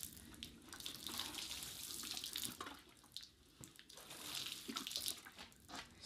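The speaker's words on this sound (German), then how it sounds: "Jetzt gießen wir den Kurkuma an." Water pours from a can onto a potted turmeric plant being watered in after repotting, a close, faint trickling and splashing that swells and eases in uneven bursts, with no talk.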